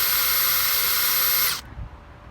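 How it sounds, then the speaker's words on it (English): A 1/4 inch drill bit whines steadily and loudly as it bores down through the slots of a DeWalt assembly block, then cuts off abruptly, leaving near silence. "taking the provided 1/4 inch drill. You're just going to drill right down through about center in both of these slots."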